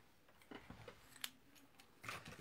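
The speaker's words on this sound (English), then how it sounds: "going to cut a length of ribbon." Scissors snip through a length of craft ribbon during a Stampin' Up card-making session: a few quiet, separate crisp cuts close by, with soft handling noises between them.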